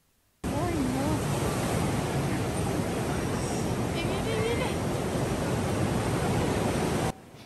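Ocean surf at Santa Monica beach, a broad, steady wash of breaking waves that starts abruptly and runs evenly for several seconds, loud and close, with faint voices and a few bird-like chirps in the background.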